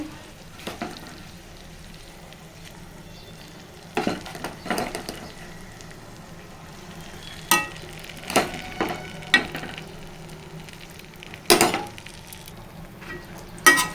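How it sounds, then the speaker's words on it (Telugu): Red chilli chutney is stirred in a hot pan, with a faint low sizzle beneath repeated sharp scrapes and knocks of a utensil against the pan at irregular intervals. "కొంచెం వేడిగా ఉన్నప్పుడు కలిపేసుకోవాలి"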